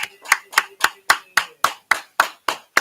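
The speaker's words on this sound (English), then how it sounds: "Clap it up, clap it up, clap it up" Sharp, evenly paced claps ring out at a class of the Israelite School of Universal Practical Knowledge, about eleven crisp unison strikes in a steady rhythm, close and loud, with no talk over them.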